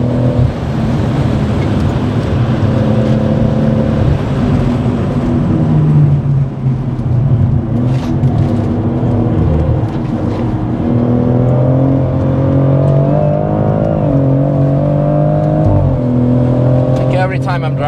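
A BMW M140i with a hybrid-turbo B58 engine driven hard on the Nürburgring, its steady engine drone climbing and dipping in pitch as revs rise and fall, heard from inside the car under ongoing conversation.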